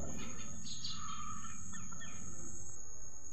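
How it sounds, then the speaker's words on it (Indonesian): Birds chirp and call overhead a short way off in the morning outdoors, over a steady high insect-like whine and a low outdoor rumble. "itu ada suara burung teman-teman di atas"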